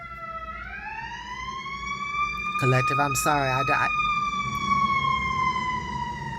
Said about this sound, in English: Already we got the sirens.